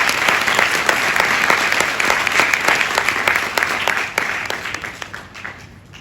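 Loud, dense audience applause fills a Mother's Day celebration at a NEET and IIT coaching class, steady many-handed clapping that fades toward the end.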